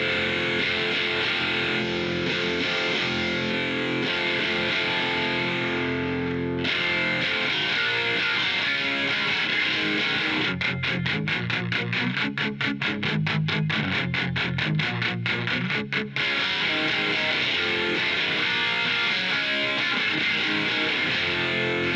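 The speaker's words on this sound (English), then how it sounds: "that's a cool way to dial in the distortion" Electric guitar played through a Helix Stadium XL compulsive drive distortion preset for indie and shoegaze tones, sustained thick fuzzy chords with a burst of fast tremolo-like chopping midway, loud with no talk.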